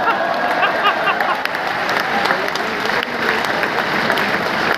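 A hall audience at a poetry recital of Urdu couplets breaks into loud, sustained applause that fills the room, with a faint crowd murmur underneath.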